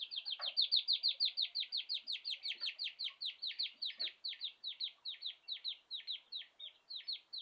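Rapid, steady series of high-pitched peeps from a 1.5-week-old quail chick, repeated dozens of times in a fast even rhythm, close and fairly loud with no talking.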